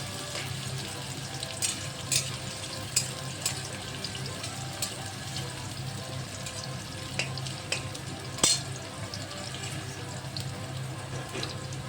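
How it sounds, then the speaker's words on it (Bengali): Onions fry in a pan with a steady, close sizzle, interrupted by occasional scraping clicks from stirring. "লাল লাল করে পেঁয়াজটাকে ভেজে নেব"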